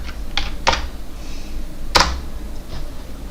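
Computer keyboard on a Windows 10 PC being typed on: a few scattered, close keystroke clicks at an uneven pace, one sharper press standing out, over a steady room hum with no talk.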